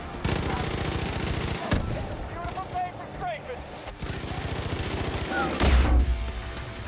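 Rapid automatic gunfire and bursts of shooting in the Far Cry 5 video game, loud and continuous with a heavy blast near the end, under game voices.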